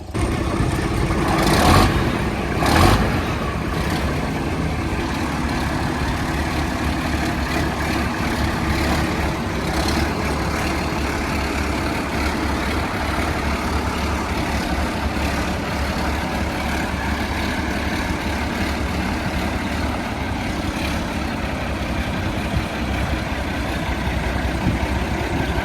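A tractor engine runs steadily at a tractor show, a continuous near rumble and chug with a couple of brief louder knocks early on, no talk over it.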